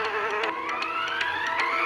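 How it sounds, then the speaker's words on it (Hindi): A housefly buzzes steadily and close by indoors, a continuous droning whine that slowly rises in pitch, with no talk over it. "यार ये मक्खी।"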